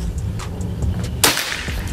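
A single sharp PCP air rifle shot cracks loud and near, a sudden burst standing out against low steady background noise during an outdoor pellet accuracy test.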